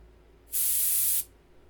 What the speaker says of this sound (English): we're going to push the airbrush needle in